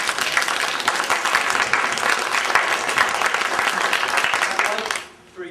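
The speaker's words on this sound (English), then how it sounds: "I'd like for you to give a round of applause too to Jake" Sustained, dense applause from an audience at a West Virginia heritage music show fills the space loudly for about five seconds, then drops away abruptly.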